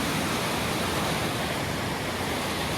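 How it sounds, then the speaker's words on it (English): A stream at Kennal Vale in Cornwall rushes past abandoned mills: a dense, steady roar of fast-flowing water, loud and continuous with no pauses or talk. "A fair few cubics of water coming through here."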